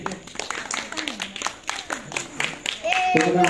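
Scattered hand claps from a small audience at an Islamic boarding school quiz contest ring out for group E, sharp and uneven, with a voice talking over them and a brief musical tone near the end.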